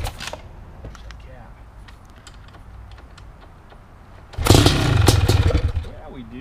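A BRC 500 motorcycle with a SmartCarb 40mm carburetor, TPS and PowerCDI is kickstarted with the decompressor on for its first startup: light mechanical clicks and thumps, then a sudden loud burst of engine noise lasting about two seconds before fading.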